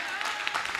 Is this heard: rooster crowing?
no